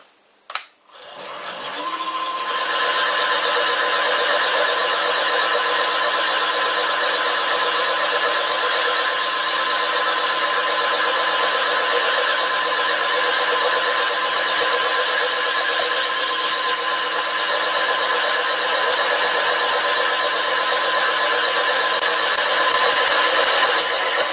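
A drill bit bores steadily through a block of wood while making chuck wedges, a loud continuous whine with a bright steady tone that holds unbroken for over twenty seconds after a short start.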